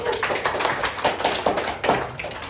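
Students in a classroom clap for a classmate's presentation, a close, uneven scatter of individual hand claps from a small group.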